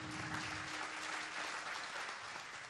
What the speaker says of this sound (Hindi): पहले तो एक बार एक साथ जोरदार तालियां इन सभी